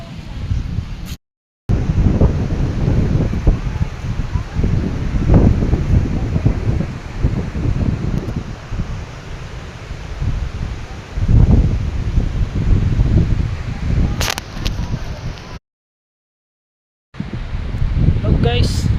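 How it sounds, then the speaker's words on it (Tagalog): Strong wind roars across an outdoor microphone in loud, continuous gusts with rustling, broken by two brief moments of silence. "Lakas ng hangin dito guys."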